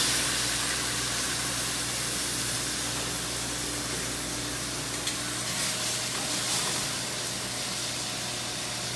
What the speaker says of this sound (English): I'm going to dump this into a really hot pan so that the wine reduces quickly